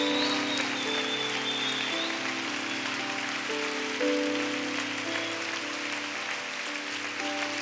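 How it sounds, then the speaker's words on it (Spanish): Congregation applause at a church service continues steadily over held keyboard chords, a dense rain-like patter of many hands clapping without pause. "Si va a aplaudir, póngale glanes y aplaude."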